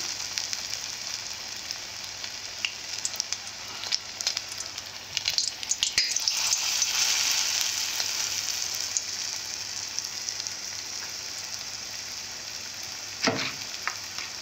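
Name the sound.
frying flower pakoras in oil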